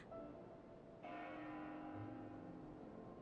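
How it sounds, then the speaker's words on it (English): Bell ringing in the Xenoblade Chronicles 2 video game, a faint sustained metallic tone that swells in partway through and lingers under a quiet ambient background. "That bell sound must be coming from somewhere."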